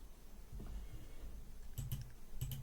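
Computer mouse clicking while navigating an SEO plugin's pages on a computer, a few quick soft clicks in pairs near the end, close and faint over a low background hum, with no talking.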